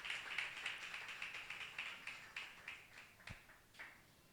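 A church congregation applauding, with loud, steady clapping close at first that gradually thins and softens into scattered claps, with no talk.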